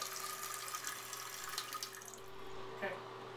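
A 1984-1986 American Standard Cadet standard-height toilet tank refilling with water, a quiet steady rushing hiss of water with a faint hum beneath and a brief clunk near the end.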